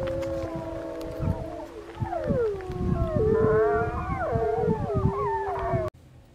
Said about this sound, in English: this next video is wolves actually howling back at us